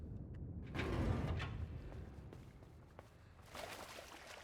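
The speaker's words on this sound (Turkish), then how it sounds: "Ona bastığımız zaman kapı kapanıyor aynen." A heavy door slides and rumbles shut in the puzzle-platformer game Inside, a low grinding scrape followed by a second softer rolling movement, with no talking.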